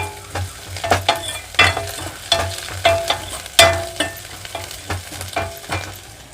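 Onions sautéing in a pan for a lake kendai fish curry, a close crackling sizzle broken by a steady rhythm of stirring scrapes about twice a second, with no talk.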